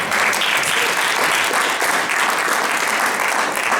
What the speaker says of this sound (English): we need to applaud that